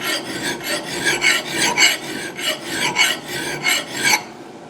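An axe edge is sharpened by hand with a file: about a dozen rhythmic rasping strokes, close and fairly loud, each a short gritty scrape, ending abruptly.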